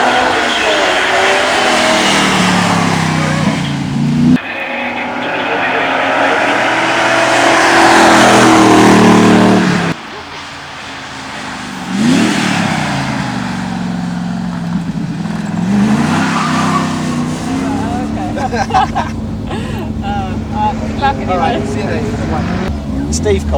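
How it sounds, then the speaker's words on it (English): A TVR V8S sports car charges up a hillclimb course at Loton Park. The loud V8 roars and revs through gear changes, swelling and fading as it passes, with a voice speaking over parts of the run. "stunning V8S always sounds great"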